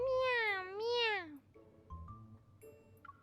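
A cat in the game Love and Deepspace gives two long, wavering meows close up, then softer game sounds and faint chimes follow.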